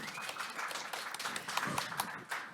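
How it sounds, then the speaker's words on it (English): Audience applause after presentations at a startup demo day event, a steady wash of clapping from a crowd lasting the whole moment without pause. "Please give him a round of applause."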